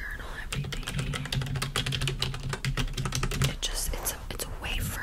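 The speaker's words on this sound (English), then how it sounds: "I'm just typing because I like to keep notes." Steady rapid typing on a computer keyboard, close and crisp, in a quiet ASMR-style school counselor's office, with a soft whispering voice faintly underneath for part of the stretch.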